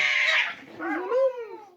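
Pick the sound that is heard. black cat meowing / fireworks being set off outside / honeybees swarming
black cat meowing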